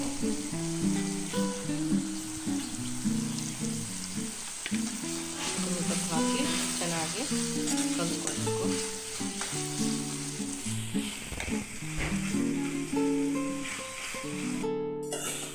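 Capsicum rice vegetables frying in a pan with garam masala and coriander leaves, a loud continuous sizzle with scraping stirs throughout, close up and without talk.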